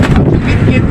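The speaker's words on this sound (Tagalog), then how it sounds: "Palakas ng palakas rin hangin." Strong wind ahead of a typhoon near the shore roars across the microphone as loud, continuous buffeting rumble for a full second.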